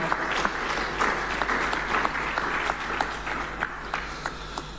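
An audience at a public forum on mineral royalties applauds a speaker named Carl. The clapping is moderate and somewhat thin, with distinct individual claps standing out over a low steady hum.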